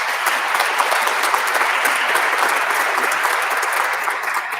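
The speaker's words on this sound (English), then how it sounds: "One last round of applause for this group." A school board of education meeting audience gives a group one last round of applause. The clapping is dense and steady from start to finish, a moderately loud wash of many hands with no voices standing out.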